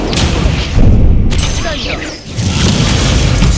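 An Incendio fire spell in a Harry Potter video game bursts out in a loud, booming whoosh with rumbling thuds, while voices shout throughout.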